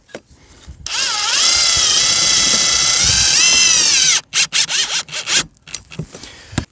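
A power drill whines steadily for about three seconds while driving a screw in, then several short revving bursts follow as more screws are driven, loud and close with no voices.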